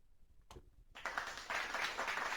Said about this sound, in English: that applause is for the Dork